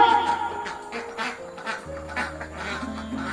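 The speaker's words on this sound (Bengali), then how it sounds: "গায়ের বউরা খাল থেকে বিল থেকে তাদের হাঁসগুলোকে ডাকতে লাগলো চই চই চই চই" Ducks quack in a short close run of nasal calls, with a low steady hum underneath and no talk.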